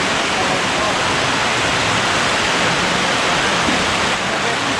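Heavy rain pouring steadily at a house construction site where a second-floor slab form is being built, a dense, even hiss with no pauses and no voices over it.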